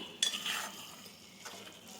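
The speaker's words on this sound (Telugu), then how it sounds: "ఇప్పుడు మన టేస్ట్కి తగ్గట్లు సాల్ట్ ఇది ఒకసారి తిప్పుకోవాలి" Salt stirred into a tomato curry with gourd in a pan, a soft scraping stir with a light sizzle, one sharper clink near the start, close and steady with no talk.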